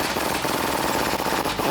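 A pneumatic impact gun hammers a bolt loose in the wheel well of a Ram 1500 pickup during a leveling kit install, a loud, close, continuous rapid rattle lasting the whole short stretch, with no talk.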